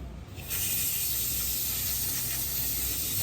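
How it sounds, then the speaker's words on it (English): A steady hiss of water spraying begins abruptly and continues loudly, rinsing the screen and parts of a Graco GX-7 spray gun used for lifting concrete. "Spray off the screen really well"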